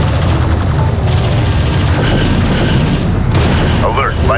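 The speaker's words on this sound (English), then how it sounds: "Alert. Light attack vehicle destroyed." Light attack vehicle blowing up amid battle in the strategy game Homeworld: Deserts of Kharak, a loud, dense roar of booms and gunfire throughout, with clipped radio voices over it.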